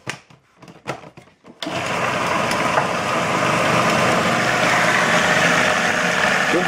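A food processor whirs steadily and loudly, blending spice cake batter made with orange marmalade after a few brief knocks and handling sounds.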